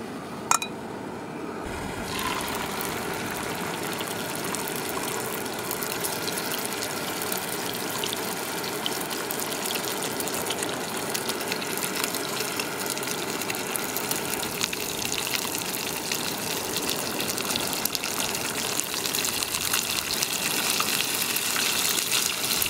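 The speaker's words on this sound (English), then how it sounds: "gas stove" A small portable gas stove burns with a steady, even roar and hiss throughout, after a brief click and flare of ignition near the start; it is close and constant, with no talking.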